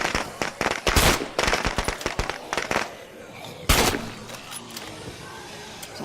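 Sharp automatic bursts of gunfire in State of Decay 2 come close and loud in clusters, followed by a single heavy shot and then quieter scattered noise.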